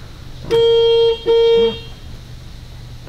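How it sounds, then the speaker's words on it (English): A car horn gives two loud, close honks, the first about half a second long and the second a little shorter, followed by quiet background. "Honk the horn."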